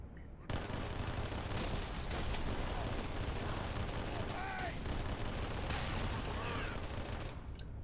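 Rapid, continuous SMG fire from the Halo video game rattles steadily for several seconds, a dense, loud burst of gunfire with small whooshing effects in the background and no clear speech.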